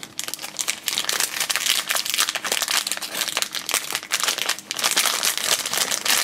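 Shopkins blind bag packaging crinkles loudly and continuously up close as it is torn open and handled, with sharp bursts of rustling plastic and brief pauses.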